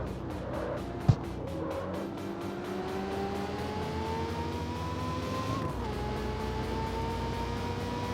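A car in the CarX Street racing game drives through city streets, its engine droning and rising steadily in pitch with a sharp thump early on and a brief dip as it brakes, heard alone.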